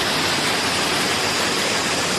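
Steady, dense roar of a waterfall plunging into a pool below in a river valley near an old temple, continuous broadband rushing with no voices.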